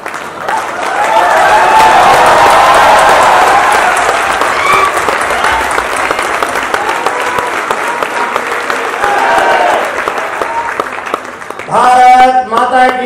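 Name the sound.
standing ovation applause from audience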